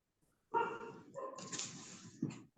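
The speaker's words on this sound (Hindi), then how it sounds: "कुत्ता कहाँ भौंक रहा है भाई?" A dog barks outdoors, a continuous stretch of muffled, fairly distant barking and yelping with a louder burst near the end, heard through a room.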